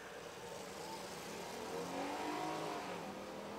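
Several cars accelerate together in a spectator drag race at Rockford Speedway, a steady, distant engine roar that swells slightly midway through, with no voices over it.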